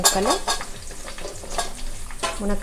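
Green chilli and carrot pieces sizzle in a hot pan as they are stirred, with scraping strokes of the spoon recurring every half second or so over a constant frying hiss.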